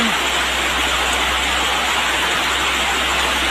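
Heavy rain falls in a steady, dense hiss that stays loud and unbroken the whole time, with no voices over it.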